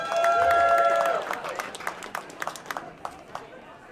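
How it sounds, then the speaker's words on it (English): A round of applause for aerialists at a film festival event, starting under a held tonal sound and thinning into scattered, distinct claps from a small audience. "Can we have a round of applause for our aerialists over there?"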